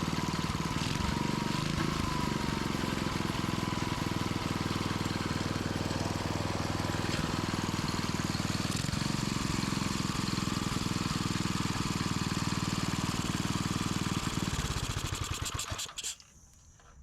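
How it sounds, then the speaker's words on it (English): A Briggs and Stratton 5 hp small engine fitted with an old lawnmower carburetor runs at a steady, loud, buzzing drone, then cuts out and sputters to a stop near the end. "That's our eBay find Briggs and Stratton 5-horse with our old lawnmower carburetors"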